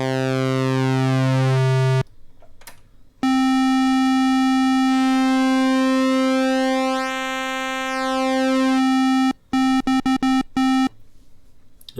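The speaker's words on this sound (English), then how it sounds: "There's your square wave" A Behringer MS-101 synthesizer sounds a steady square-wave tone, bright and buzzy and rich in harmonics. It cuts out briefly, and its pitch sweeps and changes through the run. Near the end it breaks into short stuttering bursts.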